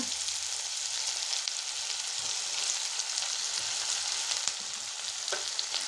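Four finely chopped onions and garlic sauté in a hot pan, giving a constant bright, crackling sizzle, close and unbroken, with no talking.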